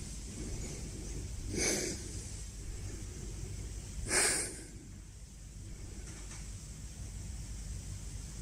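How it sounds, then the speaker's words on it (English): A scared person breathes hard, with two sharp, hissing breaths standing out against a steady background hiss and a fainter third one near the end. "He's breathing hard, bro."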